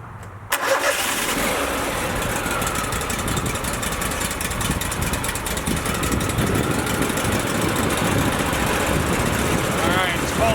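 A Woodmizer LT40 sawmill's engine starts on a cold day and settles into a loud, steady idle while warming up, running close and unbroken throughout.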